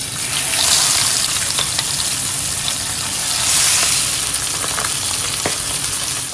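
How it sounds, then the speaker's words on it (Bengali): Pabda fish frying in a pan with a loud, steady close sizzle and spatter that swells and eases in gentle waves, without any talk. "একদিকে পাবদা মাছটা বসিয়ে দিয়েছি, মাছটা ভেজে নিচ্ছি"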